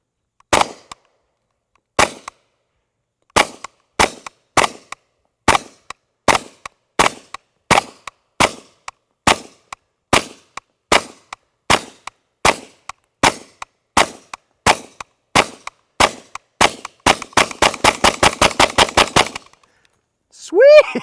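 Live fire from a KRISS Vector in 10mm Auto: about two dozen loud, sharp single shots spaced roughly a second apart, then a fast full-auto burst near the end, with a short voice right after.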